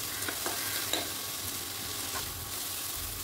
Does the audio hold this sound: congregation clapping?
no